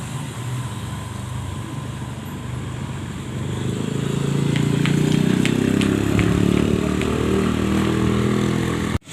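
Motorcycles passing along a roadside in Masbate, Philippines, a mid-pitched engine drone swelling louder partway through as the bikes draw near, with faint background sounds throughout.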